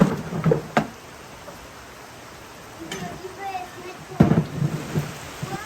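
Rain falls steadily outdoors while a few low rumbles of thunder roll in, moderately loud and close, with voices speaking briefly over the storm.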